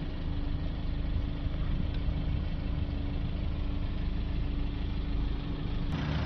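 A Ford Transit Connect 1.5 diesel van, bonnet open after a blocked particulate filter clean, idles with a steady, even low rumble throughout, close by and alone, with a brief click near the end.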